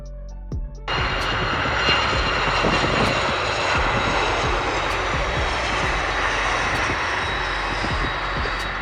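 A Northern Air Cargo Boeing freighter's engines roar loud and steady, a broad continuous jet rumble that swells in after a brief quiet start and holds with no talk.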